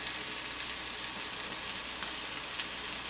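A basil, feta and tomato omelette cooks in a pan, giving off a loud, even, continuous sizzle with no other sounds over it.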